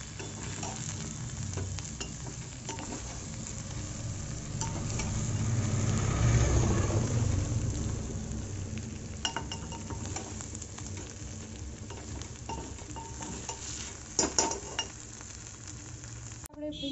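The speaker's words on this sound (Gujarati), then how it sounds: "તો મિત્રો, આવી રીતે આપણે ભીંડાને મિક્સ કરી દઈશું." Okra with garam masala stirred and frying in a pan, a soft continuous sizzle with scraping stirring strokes and occasional utensil clinks, fairly quiet and without talk.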